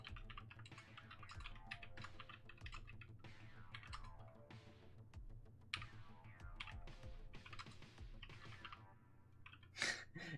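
Someone types briskly on a custom Playmaker Prime_E mechanical keyboard, producing a dense run of clacky keystrokes, close and fairly quiet, with a brief louder burst near the end.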